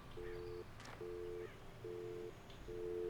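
Broken telephone in the game Alan Wake giving a busy signal: four evenly spaced steady beeps, quiet and clean, with faint background noise.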